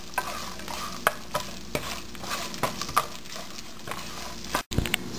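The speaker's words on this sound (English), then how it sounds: "Keep stirring" Ginger and garlic frying in a pan for South Indian chicken curry with coconut milk, stirred with regular scraping clicks of a spoon over a constant, even sizzle, heard close and alone.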